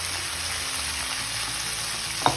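Brinjal frying in oil in a pan, a loud steady sizzle throughout, closing with a couple of quick knocks, no voices.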